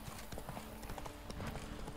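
Horse hooves clip-clop at a steady walking pace in The Witcher 3: Wild Hunt – Blood and Wine, the footfalls close and continuous over a busy game-world background.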